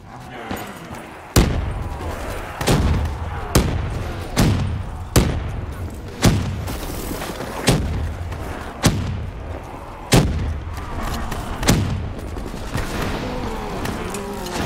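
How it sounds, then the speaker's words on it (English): Gunfire and flashbang grenade blasts in the Call of Duty Black Ops 3 Nightmare campaign, loud repeated booming bursts spaced roughly every second or so over a dense, continuous battle din. "Flashbangs for the win. I flashbanged myself there."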